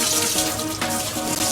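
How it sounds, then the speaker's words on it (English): Cold tap water runs steadily into a sink as food is rinsed of dust and starch, a close, continuous splashing gush heard alone. "So what I'm going to do now is just rinse off the dust and the starch."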